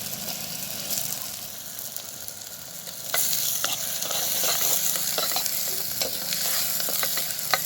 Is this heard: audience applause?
no